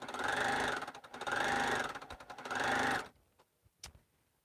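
A sewing machine stitches quilt fabric in three steady bursts of rapid mechanical whirring with brief gaps, then stops, leaving a few faint clicks and taps close by.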